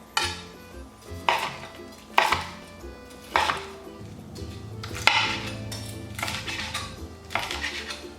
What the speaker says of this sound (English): And we're gonna do a little choppy chop.